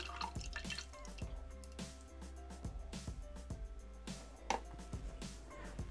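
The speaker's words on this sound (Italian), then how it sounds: "Versiamo la panna." Cream is poured into a Thermomix TM6 bowl fitted with the butterfly whisk for vanilla gelato, giving soft dripping and splashing close by over quiet background music.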